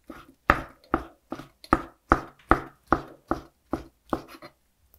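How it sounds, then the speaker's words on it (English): A knife slices food into thin julienne strips on a cutting board for Korean rice cake soup, about a dozen crisp, evenly spaced chops close up, with no voices. "And then I'm going to cut it into thin julienne pieces."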